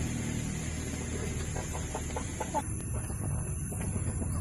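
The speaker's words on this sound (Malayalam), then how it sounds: "ഈ രണ്ട് കോഴികൾ ഞാൻ പുറത്തുനിന്ന് വാങ്ങിയതായിരുന്നു" Backyard hens cluck in a short run of rhythmic calls against a noisy background hum, the bursts fairly close and moderate in loudness.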